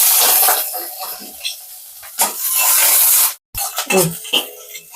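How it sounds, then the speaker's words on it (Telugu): Green chilies and dried red chilies frying in half a spoon of oil, a steady bright sizzle with intermittent stirring and utensil scrapes, briefly dropping out before resuming. "ఒక 1/2 స్పూన్ ఆయిల్ వేసి పచ్చిమిరపకాయ, ఎండుమిరపకాయ రెండు వేసి ఫ్రై చేసుకుందాం"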